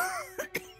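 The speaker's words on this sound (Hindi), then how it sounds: "इस खांसी ने तो मेरी जान ही ले ली है" A woman gives a couple of short, raspy coughs, two quick close bursts just after a brief breathy murmur, quiet and near in an indoor drama scene.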